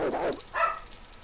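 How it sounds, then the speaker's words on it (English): A dog in the room gives two quick barks, moderately loud and close, with a short pause between them. "For whatever reason, my dog's barking"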